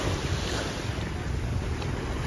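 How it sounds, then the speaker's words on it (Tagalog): Waves and wind at Rawai Beach, Phuket, with speedboats nearby, a steady broadband rush of surf and wind buffeting the microphone, no clear separate engine, no talk. "May mga speedboat dito, guys, oh."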